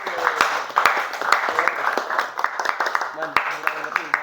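Applause from a classroom group after a presentation, dense clapping sustained for about four seconds with sharp individual claps standing out, mixed with background voices.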